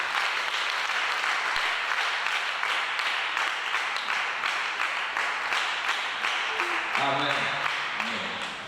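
A church congregation applauds together in praise of God, steady sustained clapping from many hands filling the room throughout, with some voices mixed in toward the end.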